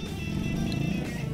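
A freestyle stunt motorcycle engine at a stunt show drones with a steady low growl and slight pulsing, moderately close, with no clear talk.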